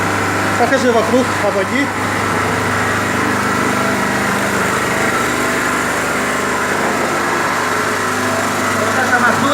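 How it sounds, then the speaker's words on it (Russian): Skif BSM 200 concrete mixer with a 200-litre drum and 550 W electric motor turning a load of concrete, a steady mechanical hum and whir running throughout, with a voice speaking briefly near the start. "Вот так получается такая бетономешалка, которая крутит вот такую массу."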